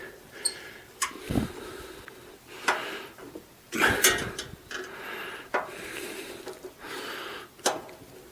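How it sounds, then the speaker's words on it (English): A screwdriver tightens a screw while a Traeger Timberline 850 grill is being assembled, giving close, intermittent scraping and rasping turns with sharp clicks and a few louder knocks, and no talking. "They even give you a handy dandy screwdriver along with the wrench and the hex key. Just tighten that up."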